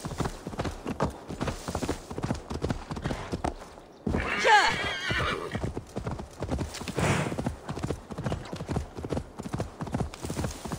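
Horse hooves clip-clopping in a rapid galloping rhythm in the video game Assassin's Creed Valhalla, with a whinny partway through, steady and close beneath someone talking.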